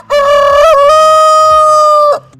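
A rooster crows once, loud and close, a long sustained harmonic cock-a-doodle-doo lasting about two seconds with a brief break in pitch near the start.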